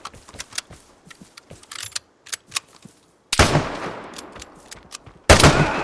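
Gunfire in the video game Vigor: a few faint scattered shots early on, then two loud, close bursts of rapid shooting that ring out sharply.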